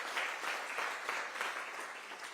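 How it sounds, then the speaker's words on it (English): Brief round of applause from guests at a women's gala dinner, fairly faint and steady clapping with slight swells, no voices standing out. "please give them a round of applause for just their amazing work"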